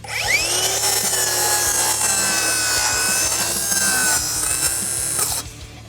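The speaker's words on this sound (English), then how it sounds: "I'm gonna make a really thin cut, which you do all the time" A power saw with a blade guard cutting a thin strip from plywood, a loud continuous whining rip that runs steadily for about five seconds, then stops abruptly and leaves a short quiet tail.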